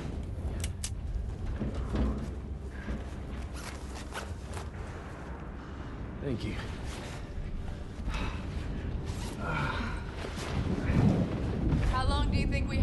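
A thunderstorm with steady heavy rain and deep rolling thunder rumbles, the downpour constant throughout and swelling louder near the end, with a few faint voices and breaths under the storm.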